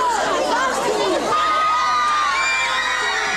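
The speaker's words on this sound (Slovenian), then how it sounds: "Množica v Sitiju se Leticije kar ni mogla nagledati." A crowd of fans in Slovenia gathers to meet a telenovela actress, a loud, close, continuous wash of shouting, cheering and excited chatter with children's voices.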